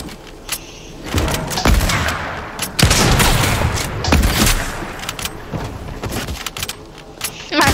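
Rapid, loud hunter rifle shots and impacts crack in bursts through a Fortnite match, layered over busy game noise for the whole stretch.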